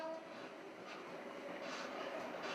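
A moving PNR passenger train rocking along the tracks, a continuous rattling rumble with faint rhythmic clatter and no voices.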